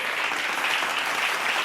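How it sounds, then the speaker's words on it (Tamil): A brief stretch of steady applause from a congregation during a Bible study message, dense and even clapping with no voices audible. "கைத்தட்டுக்கு ஆமென்."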